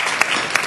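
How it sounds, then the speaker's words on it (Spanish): Audience applause at a national marketing awards ceremony, a steady wash of many hands clapping for the prize winners, with a couple of sharper claps standing out above the crowd. "Pero aquí la aplaudís."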